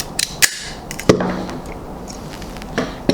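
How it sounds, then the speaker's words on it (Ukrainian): A Verano grafting pruner snaps through a small twig for grafting, with a few sharp, close clicks and cuts spaced across a quiet background. "Встановлюємо гілочку і натискаємо"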